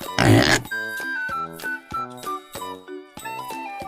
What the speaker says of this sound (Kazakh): Pig. Торай.